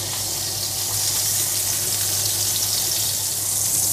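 Steady, dense sizzling of margarine melting in a hot frying pan, a constant crackling hiss with a low hum underneath.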